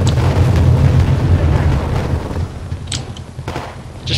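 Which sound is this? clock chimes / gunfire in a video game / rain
gunfire in a video game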